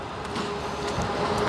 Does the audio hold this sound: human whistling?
no